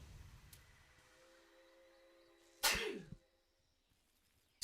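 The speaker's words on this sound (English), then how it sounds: "Like a sneeze to wake you up in the morning." A single sharp sneeze bursts out loud and close after a stretch of quiet game background hum, then fades quickly, with a brief click at the very end.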